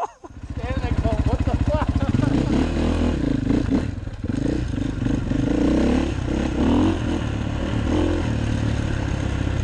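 A motorcycle engine on a wooded trail is throttled hard, with a loud close rising rev that holds a rough, sputtering drone and occasional clatter, while a person talks over it.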